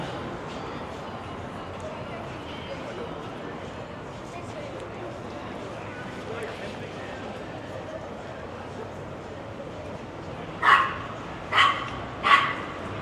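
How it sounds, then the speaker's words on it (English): Small dogs yap three times in quick succession near the end, cutting through a steady outdoor street bustle with distant voices on a Toronto sidewalk around Spadina Avenue and Queen Street. "Got lots of yappy dogs today."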